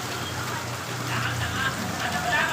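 Rain pours from a gutter nearby, splashing in a continuous watery rush with dense dripping throughout.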